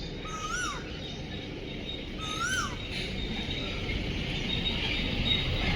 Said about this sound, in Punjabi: ਇੱਧਰ ਕੋਇਲ ਬੋਲ ਰਹੀ ਆ